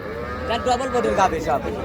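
A large dairy cow moos close by in a couple of drawn-out, wavering lowing calls, loud and clear.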